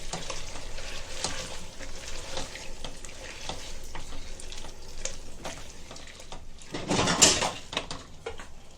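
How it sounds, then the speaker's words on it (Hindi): Masala roasts in a pan for a Kokani mutton thali, with a steady soft sizzle and scraping stirs throughout, then a louder burst of sizzling and clatter near the end. "अभी इसको अच्छे से भुनेंगे, खुशबू अच्छी आना चाहिए जब तक भुनेंगे।"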